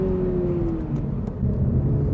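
Front-engined sports car engine in a GT86-style layout, revving steadily with a continuous low rumbling drone and a sustained tonal note, close and loud throughout with no speech.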